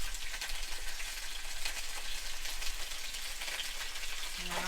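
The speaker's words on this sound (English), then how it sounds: "so we're gonna fry this a little while" Pieces of snapping turtle fry Cajun style in a pan, a steady even sizzle of hot oil running throughout with a faint low hum beneath.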